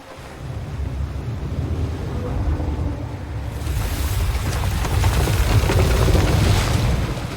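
A ship sailing on the open sea in the Sea of Thieves video game, with a steady rush of wind and waves that grows fuller and louder partway through, continuing without talk.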